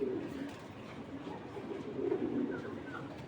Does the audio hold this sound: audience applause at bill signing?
no